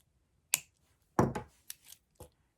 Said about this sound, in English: I have 20 gauge gold wire, my trusty wire cutters. I'm going to cut off about 6 inches